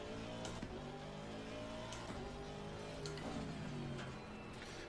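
A GT race car engine in Assetto Corsa Competizione at a British GT Championship race, droning steadily under load with quick upshifts and pitch drops as it accelerates, sounding close and continuous.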